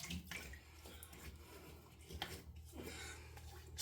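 Water from a tap runs and splashes onto a Richman Blood Oath shaving brush, a soft, continuous trickling with small wet splashes, fairly faint and close, with no one talking.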